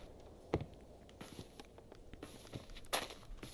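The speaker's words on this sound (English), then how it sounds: "It's like I'm hearing footsteps" Soft footsteps patter in the Cobblemon Origins VR video game, a few faint, irregular steps over quiet background with nothing else prominent.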